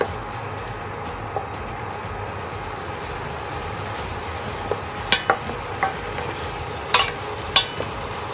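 Catfish stir-fried in red curry paste in a pan, a steady soft sizzle running throughout with a few clinks of a utensil against the pan near the end, close and even.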